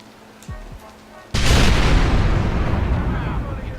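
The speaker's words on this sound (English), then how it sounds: "Explosion!" A sudden loud explosion in the Western video game Red Dead Redemption, bursting after a quiet moment with faint clicks and rumbling on with a long decaying roar.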